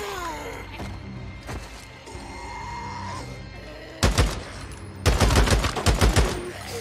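Assault rifle gunfire in a video game: rapid bursts of loud shots in the second half, after quieter game sounds and a few scattered pops, with no talk.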